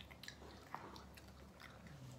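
Teeth biting down on a hard Coca-Cola flavored candy cube from a Hong Kong snack crate, a few faint, close clicks and crunches with no voices.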